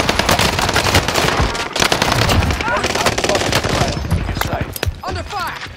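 Rapid automatic gunfire rattles through a Call of Duty Warzone match on Fortune's Keep: loud, close bursts of machine-gun shots with sharp cracks, and brief voices cutting in near the end.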